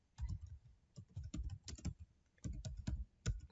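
Keys clatter on a laptop keyboard while text is typed into Microsoft Word, irregular bursts of close, crisp clicks with brief pauses between runs of strokes.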